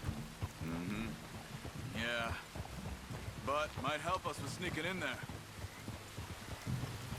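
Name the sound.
rain and thunder in the video game Red Dead Redemption 2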